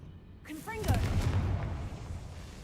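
A Confringo blasting spell explodes in Hogwarts Legacy as a sudden broadband burst that rumbles and fades over a couple of seconds. A voice calls out just before the blast and overlaps its onset.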